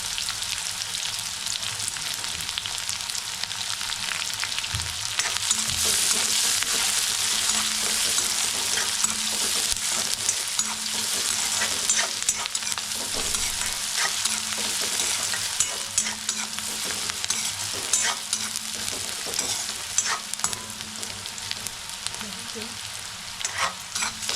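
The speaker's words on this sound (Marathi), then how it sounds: "कढीपत्ता घालतो कांदा घालतो बघा कांदा लाल झाला की आपण मग टॉमॅटो घालू" Curry leaves and onion frying in oil in a pan, a steady loud sizzle lasting throughout with occasional stirring scrapes and clinks over the hiss, no voice.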